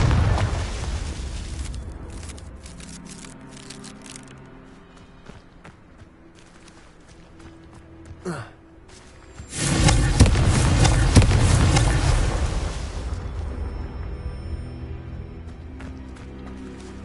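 Explosive blasts from Confringo spells in Hogwarts Legacy combat: a loud burst near the middle, then a sustained roaring, crackling barrage over a low rumbling game background.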